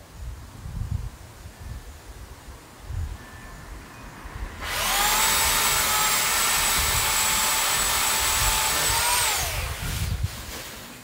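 A power saw cuts tree branches on a tree removal job near power lines, a loud steady high whine holding for about five seconds after quiet outdoor background, then tapering off.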